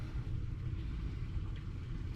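Steady low rumble of a 15 horsepower outboard motor driving a US Rib 310 single-floor dinghy loaded with four adults, a continuous droning engine with wind and water noise, no voices.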